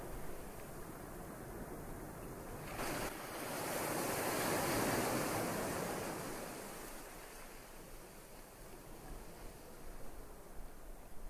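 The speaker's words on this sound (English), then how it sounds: "The sound of the waves envelop you, calmer and calmer." Soft ocean waves washing onto a shore, one broad surge swelling and fading over several seconds against a steady hiss of surf, distant and quiet, with no voices.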